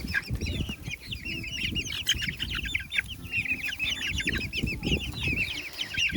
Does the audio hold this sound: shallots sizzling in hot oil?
no